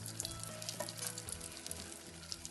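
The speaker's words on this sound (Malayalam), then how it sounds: "അതുപോലെ തന്നെ നമ്മളത് ഫ്രൈ ചെയ്തെടുക്കുകയാണ് ചെയ്യുന്നത്" Chicken nuggets deep-frying in hot oil give off a steady, dense crackling sizzle with small irregular pops, close and continuous throughout, with no voices.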